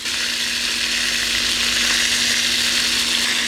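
Cuttlefish frying in a pan for paella: a loud, even, close-up hiss of hot oil that runs unbroken from start to end, with a faint steady hum beneath and no speech.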